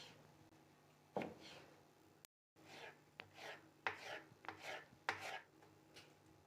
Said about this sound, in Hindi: इस तरह आपने नाइफ़ की मदद से कटिंग बोर्ड पे रख के इस तरह तेज़ी तेज़ी से आपने बारीक बारीक